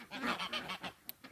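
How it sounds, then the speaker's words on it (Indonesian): A few quick nasal honks and quacks from a group of ducks in Istanbul, fairly faint and spaced irregularly, with no talk over them. "ada bebek banyak"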